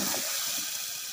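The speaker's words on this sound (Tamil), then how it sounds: "இதில் நம்ம கொஞ்சம் தண்ணி ஆட் பண்ணிக்கலாம்." Water poured into a hot pan holding cinnamon, cloves and cardamom, giving a brief, steady hiss and gush that fills the short moment without any voices.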